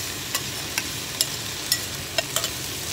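Tomatoes going into a pan of frying spices and red chilli for a potato, pea, paneer and soya granule curry, giving a steady low sizzle with a few sharp clicks of stirring or dropping pieces, close and without talk.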